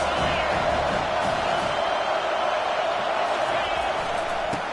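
Stadium crowd noise at a football game forms a loud, continuous wash of voices, with a commentator speaking over it.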